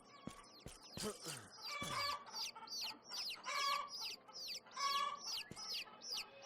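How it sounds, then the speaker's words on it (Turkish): Several chickens cluck and chatter close by in quick, uneven bursts, with a few louder squawks early on. "Tavuklar."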